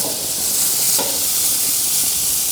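Burgers searing over direct heat on a Char-Broil gas grill, a loud, steady hissing sizzle throughout with faint scrapes, nobody talking.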